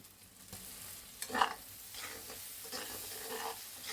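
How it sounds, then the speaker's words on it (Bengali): Spice paste with tomato and green chili frying in a pan: a soft steady sizzle, broken by stirring scrapes and a sharper crackling burst near the middle. It is fairly quiet and close, with no voices. "সম্পূর্ণ ভাজা ভাজা হয়ে গেছে আমার মশলাটা।"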